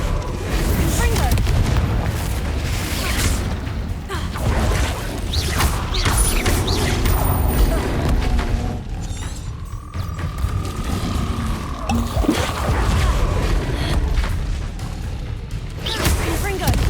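Confringo blasting curses explode repeatedly in Hogwarts Legacy, a run of loud booming blasts and crashing impacts over a dense rumbling battle, with a rising whine in the middle.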